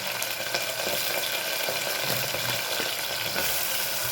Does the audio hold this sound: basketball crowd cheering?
no